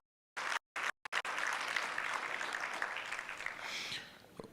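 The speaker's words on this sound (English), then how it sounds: "Let's give the ambassador one good round of applause." At a conference, after a few brief bursts of sound with silent gaps, an audience applauds in a steady round of clapping that holds for several seconds before fading.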